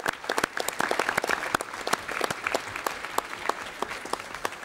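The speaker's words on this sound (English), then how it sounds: "So I think you deserve a round of applause." Sustained applause from a seated audience at a formal plenary meeting of an interparliamentary conference, many hands clapping steadily and fairly close, with a few sharper individual claps standing out over the din.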